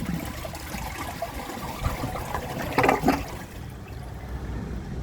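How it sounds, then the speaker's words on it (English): A 2003 American Standard Compact toilet flushes with a steady rush of water, a short gurgling surge near the end, then quieter trickling as the bowl refills; no talking. "So I'm just going to give it another flush and see if it can take the rest of that through"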